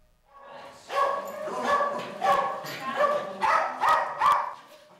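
Several dogs seized in an SPCA raid bark and yip at a rescue, a steady run of overlapping barks close by with some whimpering.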